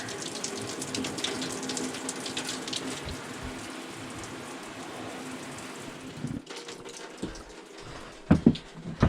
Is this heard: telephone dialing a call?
no